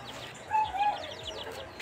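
Chickens cluck briefly in a rural yard, a couple of short clucks rising over a quiet background, fairly near and soft.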